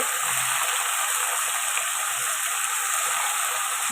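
Vegetables and tomato sauté in hot oil for a dried fish curry, a steady, close sizzling hiss that holds evenly from start to finish with no voices.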